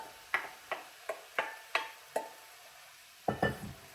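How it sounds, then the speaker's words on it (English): Chopped vegetables sauté in a pan over high heat, with a series of sharp clacks and scrapes from stirring at irregular intervals over a soft sizzle. "just to help with the sauteing process with these vegetables that I've cut up"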